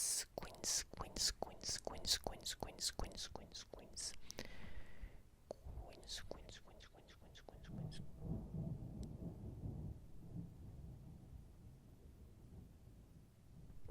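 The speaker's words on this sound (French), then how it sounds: "Oh, oh, il y a de l'orage là." A thunderstorm rumbles outside, a low distant roll of thunder alongside a rapid run of sharp clicks and soft whispery noise.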